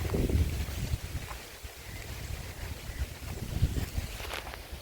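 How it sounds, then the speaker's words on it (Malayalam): Strong wind buffets the microphone outdoors beside paddy fields, a steady rumbling roar with gusty swells and no talking. "ഭയങ്കര കാറ്റുണ്ട് കേട്ടോ നല്ല രസമുണ്ട് ഭയങ്കര കാറ്റാണ്"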